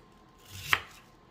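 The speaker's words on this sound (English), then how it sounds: "just take that piece and cut it down into slices" A single knife cut through a cabbage onto a board, one brief crisp close chop.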